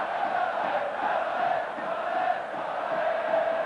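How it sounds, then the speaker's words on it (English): A large football stadium crowd at a Fiorentina versus Juventus match sends up a steady wash of chanting and cheering, distant and fairly quiet, rolling on continuously without breaks. "You can hear the crowd's appreciation of Effenberg"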